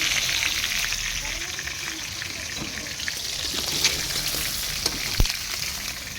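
Chicken pieces fry in a pan for a chicken roast, giving a continuous close sizzle with occasional soft clatters and one sharp knock near the end, no voices.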